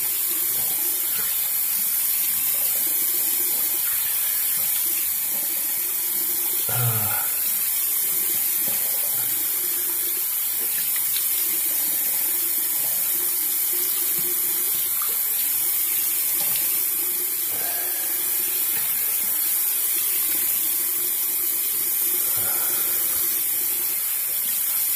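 Tap water runs steadily into a bathroom sink while rinsing after a shave, a constant hissing splash for the whole stretch with a few faint clinks and knocks, and no talking.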